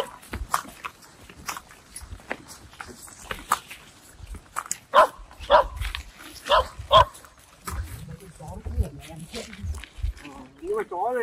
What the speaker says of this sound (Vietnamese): chó nhà Hưng à không phải đâu